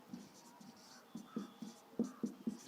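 Chalk or marker writing on a board during a class 9 maths geometry lesson, a string of short, faint tapping and scratching strokes in quick succession, heard alone without talking.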